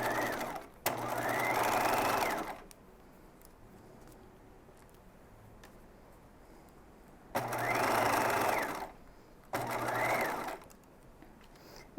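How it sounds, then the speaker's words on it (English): A sewing machine stitches a dress neckline at a one-inch seam in three loud bursts of steady whirring: about two seconds at the start, then two shorter runs near the end, with quiet pauses between. "I'm stitching at 1 inch and I'm just going to continue that stitching"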